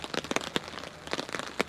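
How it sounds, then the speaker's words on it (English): Rain falling on a woodland hammock camp, with irregular close taps and patters striking the tarp and leaves in scattered bursts. "it's been raining non-stop since about, I think I woke up about 5 o'clock"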